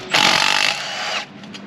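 A small impact gun on a 14 mm socket hammers at engine crankshaft bolts in a loud, rapid rattling burst, close by. The burst runs for about a second and then drops to a lower whir before stopping.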